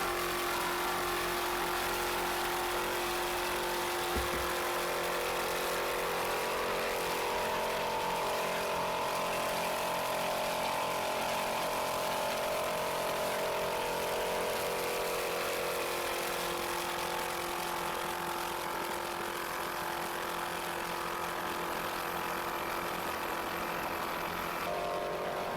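A 23-foot Python racing powerboat with a single 500-horsepower Chevy engine roars at speed, a steady loud engine drone with wind and water rush lasting throughout.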